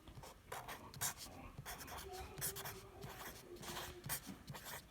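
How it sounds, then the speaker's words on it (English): A marker scratches and squeaks across a surface in short repeated strokes during go-kart and four-wheeler timing, steady and close, with faint background noise underneath. "I'm going to write it up on top since it's top."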